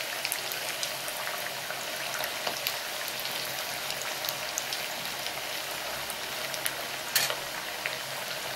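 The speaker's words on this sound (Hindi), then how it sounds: "अब हम इन्हें फ्राई करेंगे। तेल गरम हो गया हमारा" Methi mathri fry in hot oil over a medium flame, a continuous dense sizzle and bubbling crackle up close with a few sharper pops, no talking.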